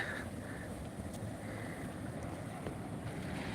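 A rough sea stirred up on a new moon day rolls onto the coast in a steady, continuous wash of surf, with wind buffeting the microphone and no voices.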